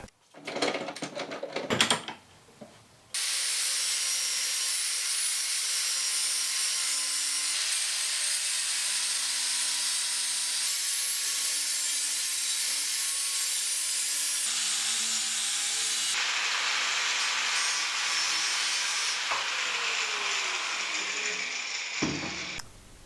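A rolled metal cover, its lip crimped like a tin can, is pried off a Jeep electronic throttle body on a workbench, producing a long, continuous scraping and grinding with clicks and clunks at the start and end.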